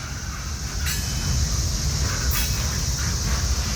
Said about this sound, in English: You guys see second train in there?